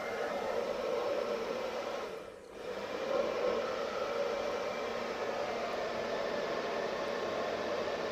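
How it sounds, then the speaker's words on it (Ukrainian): Steady whooshing cooling fan noise from a Segway Cube-1000 portable power station runs continuously at an even level, with a brief dip in the middle before resuming. "Тільки вентилятор, вентилятор працює."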